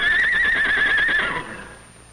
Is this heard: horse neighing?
yes